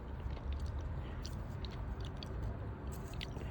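Steady close chewing on a stick of stale bubble gum from a 1988 Topps baseball card pack, with soft moist smacks and faint crunches repeating quietly and continuously, no talking.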